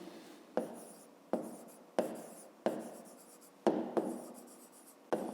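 Handwriting on paper during a fifth-grade maths exercise: soft, close pen scratching in short strokes, each starting with a small tap, about seven strokes in a steady rhythm.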